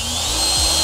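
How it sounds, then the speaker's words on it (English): Power drill boring a hole through a PC case, a loud close whine with the motor pitch dropping briefly partway through. "let's just drill a hole right there"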